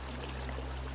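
Continuous rushing river water surging suddenly beside a forest riverbank, a steady dense wash of flow heard alone and fairly close throughout.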